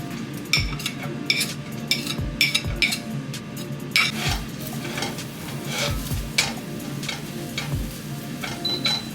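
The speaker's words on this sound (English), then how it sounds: "once the butter is melted, I'm going to do the garlic." Minced garlic sizzles in melted butter in a pan, a constant frying hiss broken by repeated scraping and clinking as a utensil stirs it, close and fairly loud.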